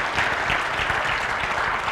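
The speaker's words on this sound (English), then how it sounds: "can we just clap and honor him?" A congregation claps steadily to honor Pastor Joe, a dense, even wash of many hands sustained for the full two seconds, close and fairly loud.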